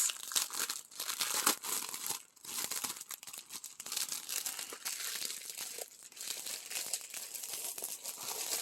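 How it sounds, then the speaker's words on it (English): Plastic bag crinkling and rustling as a rolled diamond painting canvas is worked out of it, a close, continuous crackle with brief pauses throughout. "Doesn't want to come out of the bag. It's still sticking a little bit. I don't want to rip the bag."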